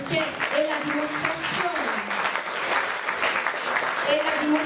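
Applause at a children's book presentation honoring the illustrator, a moderate steady patter of clapping with a voice talking over it.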